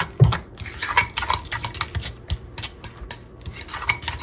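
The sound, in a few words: stirring egg salad with mayonnaise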